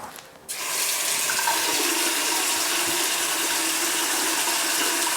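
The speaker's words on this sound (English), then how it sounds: "So I've got some sinks running, I've got a shower running, all in hot water." Several sinks and a shower running hot water in a modern cottage under remodel, a steady, loud rushing hiss that starts abruptly after a brief quiet moment and continues unbroken.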